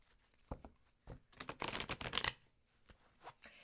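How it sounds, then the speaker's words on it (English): Tarot cards being shuffled on a table: quiet, soft riffling and slapping in bursts, with a denser run of flicks in the middle, close and faint, with no talk. "I have room to shuffle."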